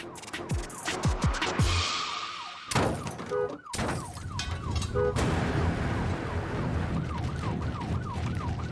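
A wailing ambulance siren cycles steadily over roaring engines and screeching tires during a police chase of a stolen ambulance, loud and close, with a brief crash-like burst early on.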